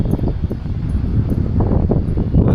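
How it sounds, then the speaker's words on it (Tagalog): Seaside breeze in Cebu City rushes against the microphone with rustling leaves, a steady, loud wind noise lasting throughout. "sarap ng hangin,"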